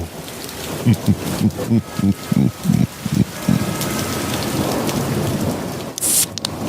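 A rain and thunderstorm sound effect for a radio theater piece: steady rain hiss with low rumbling thunder swells and a sharp crack near the end, with no speech.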